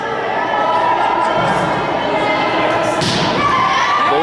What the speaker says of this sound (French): Beau service court de la part de Rosalis.